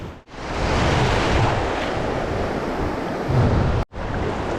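Waves wash steadily onto a beach at Caorle, Italy, in a continuous roar, with wind buffeting the microphone; close and loud, no voices.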